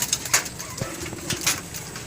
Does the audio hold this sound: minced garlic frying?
no